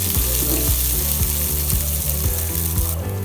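Sliced onion sautéing in coconut oil in a pan with spices such as fennel seeds and cardamom for Kerala kadala curry, a steady loud sizzle with scraping stirring strokes, no talking.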